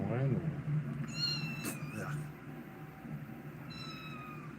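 Cat meowing twice, fairly faint and high-pitched, with a person speaking briefly and background noise throughout.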